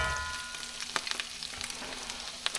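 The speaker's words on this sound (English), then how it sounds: "And then we're going to cook it skin side down" Garlic and herb trout frying skin side down in a pan: a steady, close sizzle with a few sharp crackles and pops and no voices over it.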